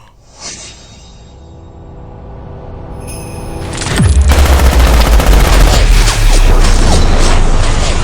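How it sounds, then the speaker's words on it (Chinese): A quiet start gives way to a sudden loud burst of rapid gunfire, a dense continuous volley that keeps rattling to the end. "来人，给我开枪，把他打成筛子！"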